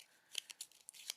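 Playing cards shuffled by hand during a tabletop game, a short run of quiet papery riffles and flicks, close and soft.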